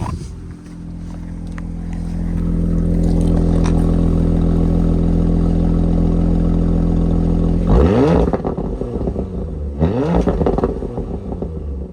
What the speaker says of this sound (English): little exhaust revs for you guys as well